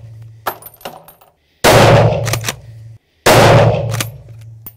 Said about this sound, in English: fantastic shot there, and you also have a fantastic shot there because there's a kill shot and everything